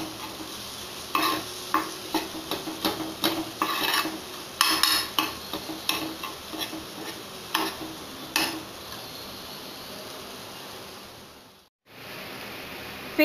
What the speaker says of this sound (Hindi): 1 बड़ा चम्मच मलाई डालेंगे। और इसको अच्छे से मसाले के साथ मिला लेंगे और थोड़ी देर तक इसको भी पकाएंगे।